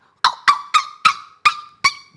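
A voice imitates a dog barking: seven short, sharp barks in an even rhythm, close and loud, with brief silences between them.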